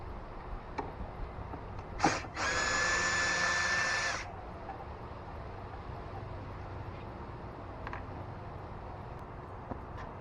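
A power driver briefly spins in a T30 Torx screw with a lock washer on a HART lawn mower handle: a short click, then about two seconds of close, loud whirring, amid quiet background noise.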